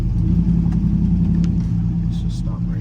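A cammed pickup truck with a stock torque converter idles and revs, a loud, close low rumble that holds fairly steady throughout, with faint light clicks and rattles above it.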